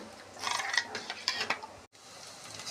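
A spoon stirs coconut milk in a vessel, giving soft scraping swirls and light metallic clinks for a few seconds, with a brief silent gap near the end.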